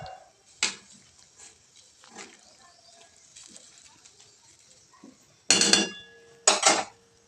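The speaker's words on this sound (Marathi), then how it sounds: "परत एकदा आपल्याला ते सगळं हलवून घ्यायचं आहे, की जेणेकरून ते मीठ सगळीकडे पसरेल" Cabbage being stirred in a cooking pot while being salted, with several sharp metal scrapes and clanks of the spoon against the pot between quiet stretches.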